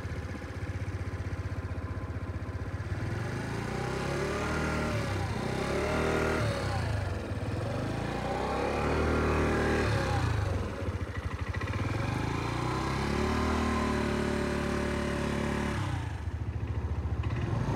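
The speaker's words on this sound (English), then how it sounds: "Now Lil Marvin will drive the Scooty." A Suzuki Let's 5 scooter engine hums steadily as it is ridden, its pitch rising and falling in repeated sweeps with throttle changes, close and continuous with some clatter.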